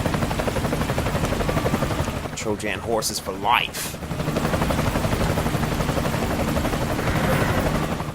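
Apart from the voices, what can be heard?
helicopter flying in the video game Metal Gear Solid Ground Zeroes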